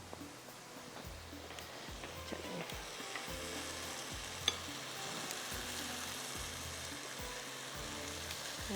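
Fish pieces fry in spiced oil with a dash of vinegar, a steady close sizzle with occasional sharper crackles and pops throughout.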